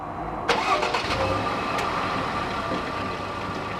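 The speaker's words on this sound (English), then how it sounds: "So that my car is now literally running, fully locked" A Jaguar XE engine starts remotely while the car sits locked, with a sharp crank and catch followed by a steady mid-pitched idle, fairly close and with no voices.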